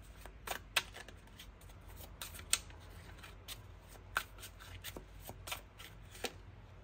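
Tarot cards are shuffled close up in quiet, repeated riffles and soft slaps, an irregular series of short crisp bursts with no talk.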